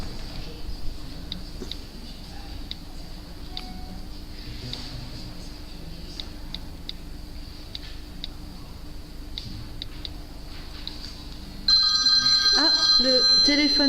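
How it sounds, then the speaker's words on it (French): A telephone rings with a bright electronic warble that starts suddenly near the end, after a quiet stretch of faint ticking room noise. "Le téléphone sonne, c'est la babysitter."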